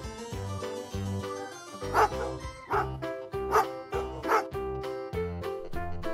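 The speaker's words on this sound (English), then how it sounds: "Dog." Cartoon dogs bark in a children's counting cartoon, a run of repeated, evenly spaced barks sitting over a bright, steady musical backing, close and moderately loud.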